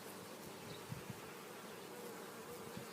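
Honeybees buzz continuously around the listener, a dense steady hum with occasional closer passes, no voices.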